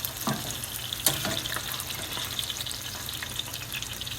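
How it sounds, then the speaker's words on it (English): Steady sizzling of eggplant frying in hot oil, with a few sharp pops and crackles, close and moderately quiet. "Now continue frying till I'm all done with the eggplants."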